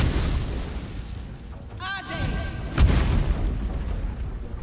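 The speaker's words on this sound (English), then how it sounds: "I was hoping she was in range of the explosion." A fire chromatic orb spell explodes in Baldur's Gate 3: a tonal magical whoosh rises, then a loud booming blast hits and rumbles away, with game ambience underneath.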